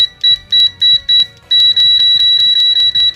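VENLAB VM-600M multimeter giving its continuity beep with stock test leads: a loud, close, high tone pulsing in short repeated bursts, then holding nearly steady with brief interruptions.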